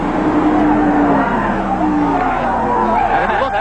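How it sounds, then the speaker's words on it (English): Race cars roaring past at the Daytona 500 finish line, a loud, sustained engine drone with pitch-shifting passes as cars sweep by, under an excited crowd and announcer. "Coming to the line. It's Labonte pulling up, and an amazing finish"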